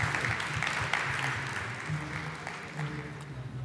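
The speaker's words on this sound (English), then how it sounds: "a round of applause for Donald" A crowd applauding Donald Lim and team at a fintech fireside chat during a blockchain week event, steady hand clapping filling the hall at moderate, somewhat distant volume.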